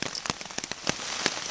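Rain falling on a woodland camp, a brief burst of irregular sharp drips and patters over a soft steady hiss, close by and without talk.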